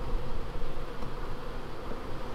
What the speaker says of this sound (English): Look, there's a lot of bees in there.